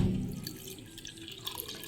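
Water is poured into a pressure cooker in a home kitchen, giving a brief close splash and trickle that fades into soft dripping, with no one talking.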